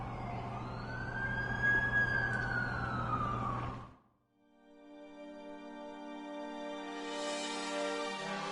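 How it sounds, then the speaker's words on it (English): Ambulance siren wailing loud and close in a rising-falling sweep for about four seconds, cutting off abruptly before a second, steadier tonal wail takes over, with no talk. "That's the ambulance I called."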